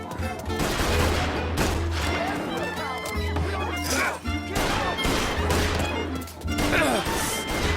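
Gunfire in the video game Mafia: Definitive Edition, dense bursts of shots and crashing impacts filling the scene, loud and continuous under overlapping voices.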